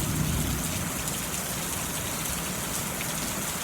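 Steady, dense rainfall hisses evenly and fairly loudly, a constant wash of drops on surfaces with no pauses or voices.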